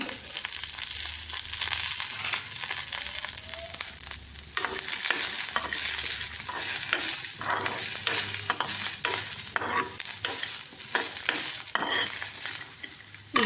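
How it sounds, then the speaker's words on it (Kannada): Puffed rice, peanuts, green chillies and coriander frying in oil, with a steady close sizzle and repeated scraping stirs and light clinks of a spoon against the pan throughout. "ಸ್ವಲ್ಪ ಎಣ್ಣೆ ಹಾಕ್ಕೊಂಡು ಫ್ರೈ ಮಾಡ್ಕೊಳ್ತೀನಿ"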